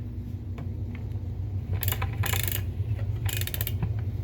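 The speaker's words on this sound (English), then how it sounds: "I really love the sound of that winder." The cord winder of a Hoover Celebrity vacuum cleaner gives off ratcheting, clicking mechanical bursts over a steady low motor hum, with a few bright rattling spurts close by.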